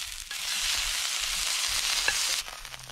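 Mud crab and flathead fillet frying in a pan, giving a steady, bright sizzle that holds at an even level from start to finish with no talk.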